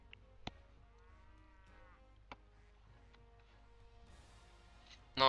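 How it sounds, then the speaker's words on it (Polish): Cattle low softly in the video game Polanie 2, with a faint drawn-out moo early on under quiet game ambience, small clicks and ticks, and a louder sharp burst at the very end. "No, krowy, dawać mleko."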